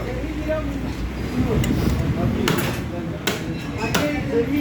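A knife cuts through a stingray with a run of dull chopping thuds and a few sharp taps against a background of room noise. A voice is talking nearby.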